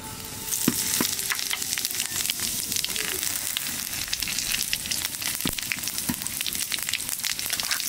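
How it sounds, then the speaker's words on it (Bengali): Cumin seeds, bay leaf and dried red chillies sizzle steadily in hot oil for dal, a dense continuous frying hiss with scattered crackles and pops throughout. "তেলের মধ্যে দিয়ে দেবো জিরে,"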